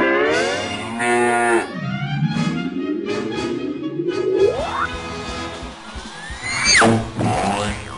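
An ox lowing in a short animated film: a long, loud, drawn-out moo that rises in pitch and cracks upward, followed by a second brief bellow near the end.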